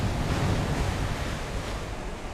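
A rocket in the Kerbal Space Program video game crashing into water at about 50 miles an hour: a steady, dense wash of noise like rushing surf, loud and continuous for about two seconds with no voices.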